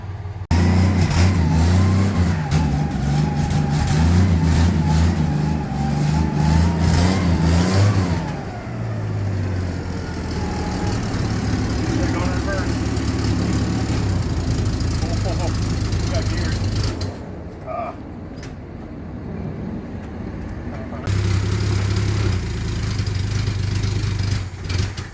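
A 1964 Pontiac LeMans, parked for 12 years, runs loudly and revs unevenly as it strains to move, its engine steady and close throughout with brief dips, while people talk nearby.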